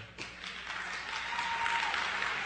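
Steady applause from a crowd, a dense wash of clapping that swells slightly and continues throughout, with no voices standing out.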